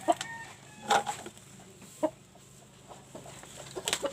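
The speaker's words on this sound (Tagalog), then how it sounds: "ito guys, ang aking isang manok na buli." A chicken clucks softly a few times at close range, with scattered short rustles and a quiet background.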